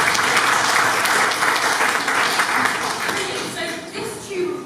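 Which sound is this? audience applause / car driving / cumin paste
audience applause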